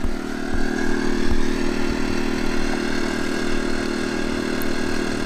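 A CAT INV2000 inverter generator drones steadily at an even pitch, a constant mechanical hum with no changes in speed throughout.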